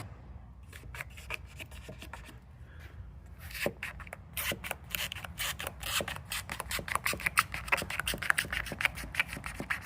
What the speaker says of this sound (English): I just like to take my trim tool and kind of press down this little, you know, part of the panel, the overlay there, and just press it under the weather seal there